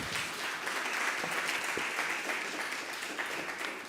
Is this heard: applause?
yes